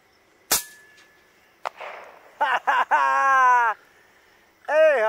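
A sniper rifle shot fired at water 222 metres away cracks sharply once near the start, followed by faint later thumps and then loud excited shouting and whooping voices.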